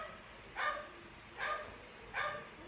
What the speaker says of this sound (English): And one of them barks. All the others bark.